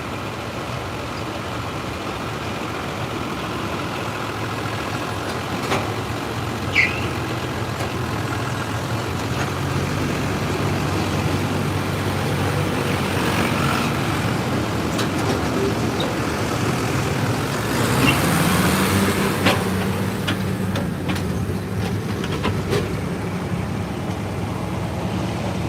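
Engines idle and rumble at a truck power pull while two-wheel-drive trucks get ready to pull the sled, a steady continuous drone with a brief louder swell near the end.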